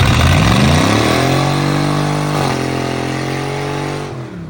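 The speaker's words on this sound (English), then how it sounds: "So I proceeded to mash on the gas a little bit." A Chevy truck engine revved close up as the gas is pressed, a loud, rough roar that climbs in pitch, holds high, then settles back toward idle, with no talk.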